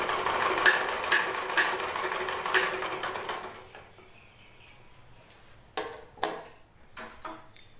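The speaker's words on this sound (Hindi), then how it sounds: "देखिए इस तरीका से हम इस पर भी सिलाई कर देंगे।" A sewing machine stitches lace onto fabric while making a latkan trim for a blouse or suit: a loud, steady whirring run for about three and a half seconds, then it stops, leaving scattered light clicks and fabric handling.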